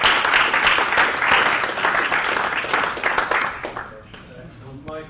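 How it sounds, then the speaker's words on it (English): An audience at an agile software user group meeting gives a round of applause, dense clapping that thins out and fades toward the end as voices begin to talk. "Let's give everyone a big round of applause."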